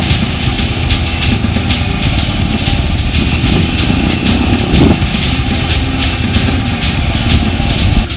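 A high-speed motorcycle, recovered by police, idles with a steady, dense engine rumble that stays loud and unbroken throughout, with no voices over it.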